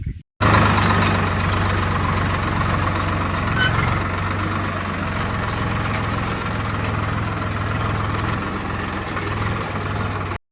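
A heavy tractor engine idles steadily with a low, continuous rumble that persists throughout, fairly close, with no talking.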